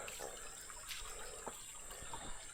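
A river at a bathing spot flows in a faint, steady wash of moving water with small splashes and trickles, heard from near the bank.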